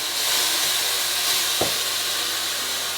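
Turkey meatballs and celery in a hot pan, giving an even, loud hiss of sizzling that runs throughout, with one short knock of a utensil partway and no talk.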